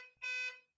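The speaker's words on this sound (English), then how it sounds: "Why is there a buzzer?" A door buzzer sounds once in a single short, loud, harmonic electronic burst, heard on its own in a quiet indoor room.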